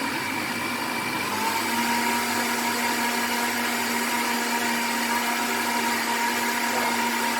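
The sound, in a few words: blender mixing a nutritious smoothie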